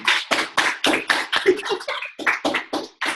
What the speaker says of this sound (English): Let's hear a round of applause for our artist in Edmonton